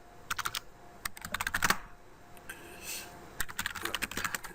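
Keys clack on a computer keyboard as network setup commands for a Cisco 3850 are entered, quick bursts of close typing separated by short pauses, with no voices.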